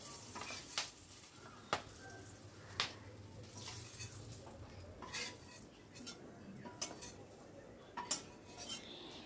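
Fried onions and chillies lifted out of a pan with a metal spatula, sharp scraping clinks repeating irregularly over a soft steady sizzle of hot oil, close and clear.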